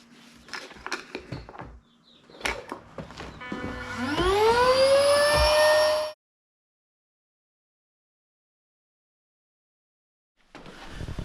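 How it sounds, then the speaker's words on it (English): An electric pump inflating a fishing raft to 3 bar whines, its pitch rising steadily as pressure builds, after some clunking handling noises, then stops abruptly into silence. "we're gonna put some pressure in this boat, pump it all the way up to the 3-bar recommendation"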